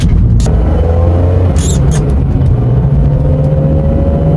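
A BMW E46 M3 with its S54 engine revs loud and close during a gear shift, a steady rumbling drone with shifting pitch.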